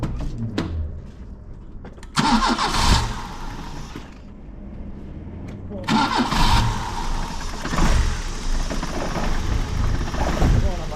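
A Cavalier Diplomat car engine is started after a can was fitted in its engine bay: it cranks and fires in two loud bursts, then runs roughly at close range with a low, uneven rumble between the attempts.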